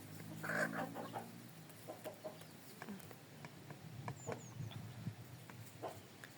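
Hens and a rooster cluck in a backyard flock of laying chickens, a loud burst of clucking at the start followed by scattered quieter clucks and calls, with one faint high call near the end.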